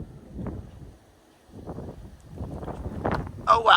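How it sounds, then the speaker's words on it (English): Gusty wind during a snowstorm rumbles and buffets the microphone, easing briefly then building again, with someone talking over it. "Oh wow, it's windy snow."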